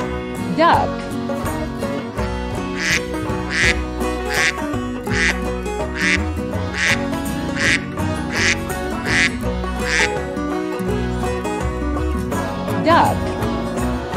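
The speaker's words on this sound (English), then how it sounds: "Duck." Repeated duck quacks, a steady series of short calls, sit over continuous background music, close and clear, as in an educational farm-animal sounds sequence.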